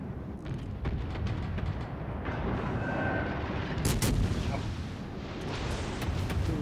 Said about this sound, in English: I just realized I had like 2 cruisers already firing as well.